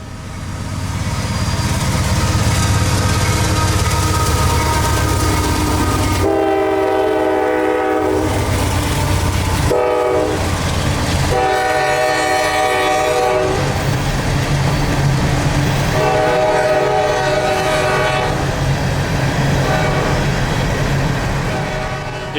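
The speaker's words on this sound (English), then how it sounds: "this train happened to have another instance of the SD70 rebuild, number 4736, trailing second" CSX grain train led by flared SD70 rebuild locomotives, one numbered 4736 trailing second, rolling past loud and close with a sustained chorded horn blast sounding several times over the rumble of the engines and cars.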